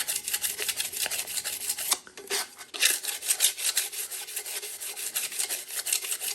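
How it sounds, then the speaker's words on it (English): Close, steady rasping of 220-grit sandpaper rubbed over an epoxy-coated tumbler, a continuous hissy scrubbing with one brief pause partway through. "now I'm just gonna go and sand it to where it's nice and even. I'm just using 220 sandpaper."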